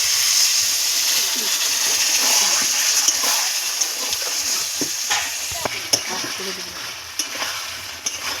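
Spiced rui fish curry with potatoes, ground cumin, coriander and chilli, sizzles steadily in a pan as a little water is added, with stirring scrapes and a few sharp clicks over the continuous frying hiss.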